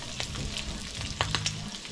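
Cooking oil in a pan fizzing steadily, with brief sharp pops and spatters scattered through it, close and moderately loud, no talk.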